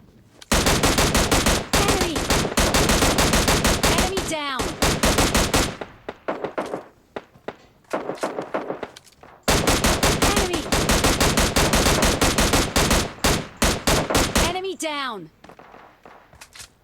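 M16 rifle fire in PUBG Mobile Lite, loud dense automatic bursts lasting several seconds each with brief pauses between them, shell-casing clinks and distant shots trailing behind.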